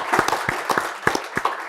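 Audience applause at a panel discussion with startup founders, a short burst of scattered claps from a modest crowd, moderately loud and fairly close.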